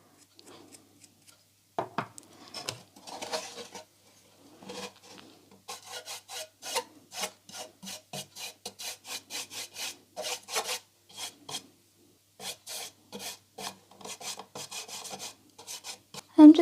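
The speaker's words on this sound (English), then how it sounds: "distress the outside a little bit just by dry brushing" Dry brush swept over a painted wooden Easter craft, giving soft, scratchy rubbing strokes in quick bursts separated by pauses, close and quiet.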